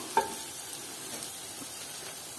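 Whole boiled potatoes fry in a pan with a soft, steady sizzle and one brief clink near the start.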